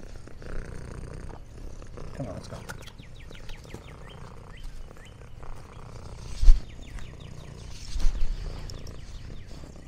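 A cat purring outdoors near cold steps on a farm, a low steady rumble running under soft ambient sounds, with brief louder bumps partway through and faint bird chirps in the background.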